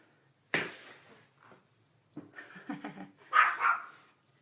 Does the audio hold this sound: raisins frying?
no